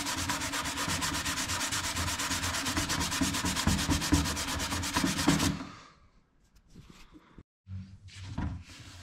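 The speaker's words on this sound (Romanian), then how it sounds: "Vedeți că mai avem ceva de șlefuit până îndepărtăm toate" A car headlight lens being sanded with sandpaper during restoration, a loud, steady rapid back-and-forth rasping that runs for about five seconds and then stops, followed by quieter handling sounds.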